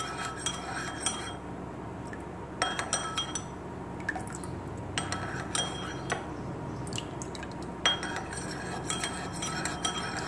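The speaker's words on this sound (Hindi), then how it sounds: "अब हम इसे अच्छे से मिक्स कर लें।" Rice serum and rosehip oil are stirred together in a small container, with clusters of quick metallic clinks and scrapes separated by brief quiet gaps.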